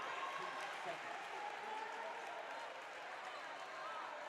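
Crowd at a women's college basketball game applauding, a steady wash of clapping and cheering from the stands that fills the whole stretch without pause.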